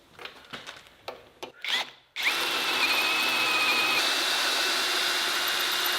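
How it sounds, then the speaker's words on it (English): Steady power drill boring holes with a 9mm bit into metal, preceded by a few short clicks and knocks, then a loud continuous whine that holds evenly for several seconds close by. "Finally got all these holes drilled perfectly"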